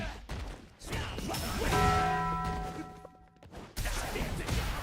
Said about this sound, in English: I'm still in love with that Taco Bell noise that you use.